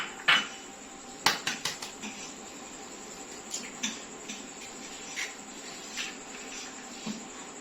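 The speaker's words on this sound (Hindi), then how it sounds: "ये अंडे मैं इस तरह निकाल के अलग कटोरी में ये इसमें डाल दूंगी" Eggs cracked into a separate small bowl while making Peshawari chapli kabab give sharp taps and clinks against the bowl rim, a quick burst early on, then scattered light knocks, close and without talk.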